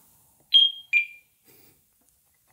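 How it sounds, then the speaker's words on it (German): A Blaupunkt SA 2900-R wireless alarm system gives two short electronic arming beeps in quick succession, the second slightly lower, followed by faint clicks in otherwise quiet surroundings. "Ich schalte jetzt einfach mal die Alarmanlage scharf"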